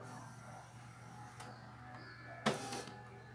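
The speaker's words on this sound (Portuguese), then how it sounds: "A impressora desligou." An Epson L395 inkjet printer powers down after its lights kept flashing, giving a faint mechanical whir and then a short louder clunk of the cartridge carriage moving, nearby and without talk.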